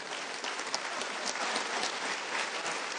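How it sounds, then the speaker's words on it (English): A large audience at a Veterans Day ceremony in Phoenix applauds steadily and densely, a sustained wash of many hands clapping for a lieutenant general with no break. "how about another round of applause for Lieutenant General Sattler?"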